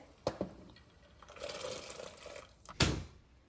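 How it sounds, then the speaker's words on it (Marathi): Soaked lentils are tipped into a pot of boiling water, giving a soft bubbling rush and then a sharp splash near the end, close and fairly quiet. "पाणी गरम कराय म्हणजे उकळी आलेली आहे पाण्याला तर आता ही डाळ टाकते मी आतमध्ये"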